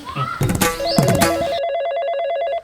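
A telephone rings with a repeating electronic warbling tone. It starts partway through, after a brief burst of clattering village sounds, and continues steadily at close range.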